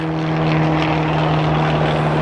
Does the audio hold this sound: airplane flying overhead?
yes